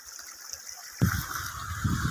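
Spring water from mountains runs in a waterfall stream, a steady rushing flow that grows louder and fuller partway through, heard up close and without speech.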